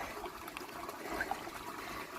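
Water poured from an aquaponics system over a plant's bare roots to rinse them, a soft close trickle and splash running steadily for a couple of seconds.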